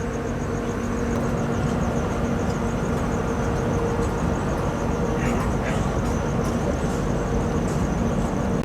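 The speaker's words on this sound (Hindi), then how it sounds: "यार्ड से लोकल ट्रेन आती हुई" A local train rolls in from the yard at a station on the Howrah line, a steady low rumble and hum with faint squeals, fairly loud and continuous with crowd noise underneath.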